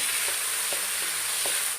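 Tomato fries in a spiced oil tempering for rasam, giving a continuous close sizzle with a few soft stirring clicks that then fades out, with no voices.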